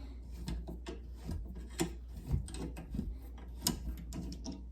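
A rusty kickstand is worked loose on a Schwinn Continental bicycle, with close, continuous metallic rasping and grinding scrapes in uneven strokes.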